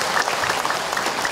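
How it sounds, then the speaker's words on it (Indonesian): Audience applause at an Islamic religious lecture for married couples, a steady dense patter of many hands clapping throughout with no speech over it. "Tepuk tangan buat ibu-ibu yang sabar."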